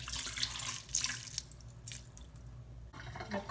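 Water is poured into an Instant Pot holding brown rice, a faint splashing and trickling pour with a couple of brighter bursts, quiet and close.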